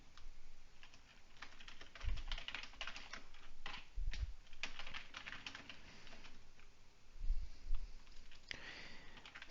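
Quiet, irregular bursts of keystrokes on a computer keyboard while typing Python code, soft close clicks in quick runs separated by short pauses, with no talking.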